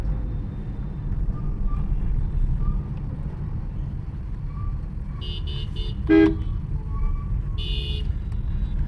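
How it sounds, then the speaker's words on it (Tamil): Heavy road traffic on GST Road between Tambaram and Chengalpattu rumbles steadily as a dense low drone, broken near the end by several short vehicle horn toots and one longer honk. "செம்ம டிராஃபிக்காக போகுது மக்கா பாருங்க"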